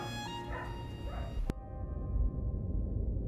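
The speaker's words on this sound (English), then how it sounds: "apparently barking dogs, because I don't know if that's being picked up by the mic" Dogs bark faintly for about a second and a half, with a few short yips. The barking cuts off abruptly and leaves a low background rumble.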